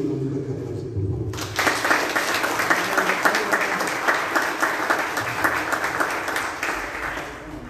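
Loud applause bursts out after a brief quiet moment at a school group's ceremony and keeps going as sustained, dense clapping from a seated audience.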